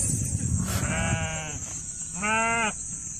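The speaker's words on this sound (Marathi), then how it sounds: "खूप छान अशा मेंढ्या आहेत" Two clear, drawn-out bleats come from a flock of sheep resting at a herders' camp during a Balu Mama palkhi. Each call is fairly near and loud over a steady hum of outdoor background noise.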